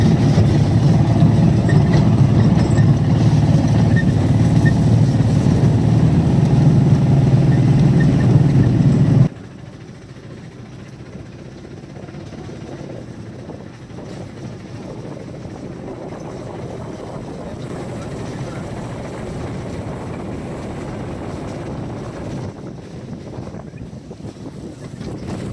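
A small fishing boat's engine runs on the water near Srisailam. A loud, steady drone with wind noise drops suddenly to a quieter, continuous hum partway through.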